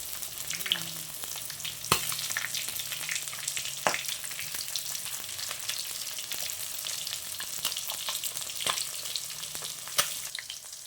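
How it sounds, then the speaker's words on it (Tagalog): Fish frying in a pan of hot oil, a continuous fine sizzle and crackle with occasional sharp pops, close and steady with no voices. "malapit nang maluto yung pritong isda"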